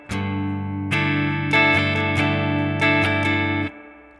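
An electric guitar rings out a chord that is restruck several times in a steady strum, clean and close, then stops abruptly.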